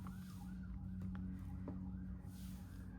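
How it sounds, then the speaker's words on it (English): Distant sirens wail in rising and falling sweeps over a steady low hum, faint and far off. "Gosh, sirens as well today."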